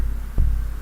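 A low techno kick drum thumps twice, deep and soft-edged, around a low sustained rumbling hum, about half a second apart, with no talk.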